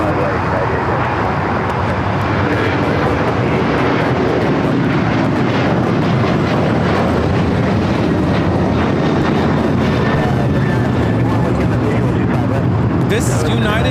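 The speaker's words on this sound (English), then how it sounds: "This is United Airlines 2458 taking off to Houston Intercontinental on the 737-900ER." United Airlines Boeing 737-900ER taking off at LAX, a loud sustained jet engine roar with broadband rumble that holds steady throughout, with a voice talking over it.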